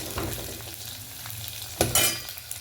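Chopped onions for a radish sambar tempering fry in a pan with a steady, soft sizzle, punctuated by a few louder scraping stir strokes near the end.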